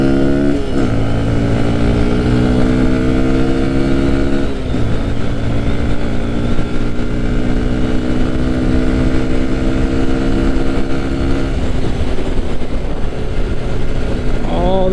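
Motorcycle engine droning steadily and loudly up close as a beginner rider shifts gears, with audible dips in pitch at each gear change before the revs climb again, a continuous harmonic roar throughout.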